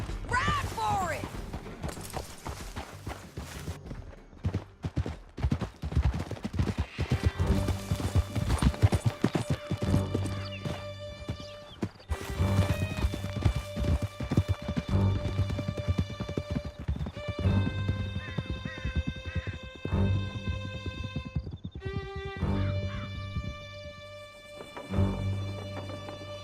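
Horses gallop hard with steady clip-clop hoofbeats and occasional whinnies in the Red Dead Redemption 2 video game, with a driving game score and scattered gunfire over the full ride.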